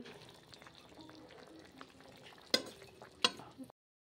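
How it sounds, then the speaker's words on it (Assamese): Cauliflower and egg frying together in a pan, a steady low sizzle with soft stirring scrapes and two sharp utensil clinks near the end. "এয়া ফুলকবিখিনি অলপ অলপ সিজিছে আৰু এয়া সিজিছে আৰু মোৰ ডিম আৰু ফুলকবি হৈ গৈছে"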